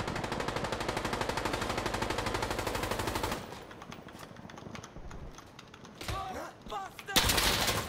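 Rapid automatic gunfire from Insurgency Sandstorm, a dense, loud burst of shots for about three seconds, then quieter scattered in-game sounds with a few brief sharp cracks and another loud burst near the end.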